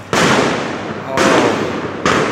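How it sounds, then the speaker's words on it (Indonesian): Firecrackers burst loudly in three sharp, dense volleys at a nighttime crowd protest outside a police headquarters gate in central Jakarta, each crackling blast cutting off abruptly before the next. "ada beberapa suara tembakan petasan"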